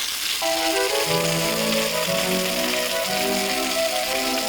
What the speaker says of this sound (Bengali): এইভাবে ঘুরিয়ে ঘুরিয়ে ভেজে নিলে এটা সুন্দর একটা কালার চলে আসবে পনিরটা ভাজা হয়ে যাবে